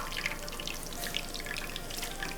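Eggplant simmering in broth for a Japanese simmered vegetable dish releases its moisture with a soft, continuous fizzing of bubbles as it is pressed from both sides with chopsticks, close and steady.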